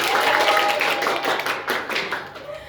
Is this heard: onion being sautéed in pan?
no